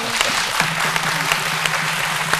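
Studio audience applause on a midday TV show, steady broadband clapping with a low hum from the set running underneath.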